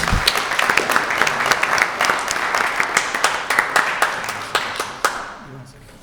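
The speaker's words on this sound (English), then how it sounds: "Let's give a round of applause for all of our amazing speakers." Audience applause at a school committee Q&A, dense clapping from a crowd that holds steady and then thins out toward the end.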